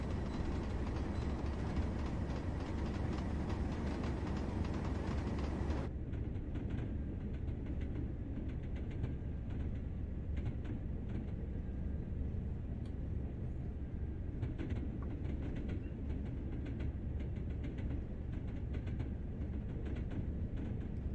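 A train in a railway simulator game rumbles steadily along jointed track, with a continuous low roar and faint rhythmic clatter from the rails, heard without any talking.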